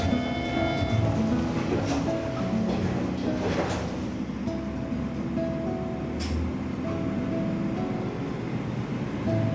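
Steady rumble of a sparsely occupied coastal train heard from a seat inside the carriage, with continuous low rolling noise, faint rattles and a few brief tonal squeals along the line between Takaoka and Himi in Toyama.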